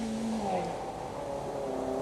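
A small front-wheel-drive Mazda rally car at a WAC rally sprint drones along with a steady, moderately distant engine note that rises and falls in pitch, and a voice speaks faintly underneath.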